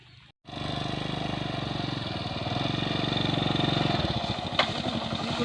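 A motorcycle engine starts up after a short gap and runs on at a steady, throbbing idle, loud and close, with a brief clank near the end.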